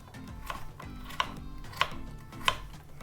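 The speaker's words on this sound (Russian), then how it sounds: "800 граммов картофеля нарезаю кубиком" A knife cuts potatoes into small one-centimetre cubes on a board in a kitchen, giving four evenly spaced, quiet, sharp chops over a low background hum.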